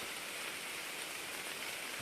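Rain falls in a dark forest, a faint, even patter and hiss of drops on leaves that holds steady throughout with no voices.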